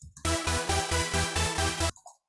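A loud, bright supersaw synth layer plays a rhythmic pattern of about eight evenly pulsed chords, with no talk over it, then cuts off abruptly.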